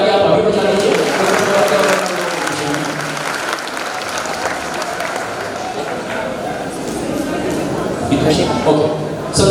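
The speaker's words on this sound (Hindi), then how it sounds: "एक छोटा ताली आप अभी बजा लीजिए।" A janmashtami 2022 audience applauds steadily for about ten seconds, a dense wash of clapping with some crowd noise and voices mixed in, rising slightly near the end.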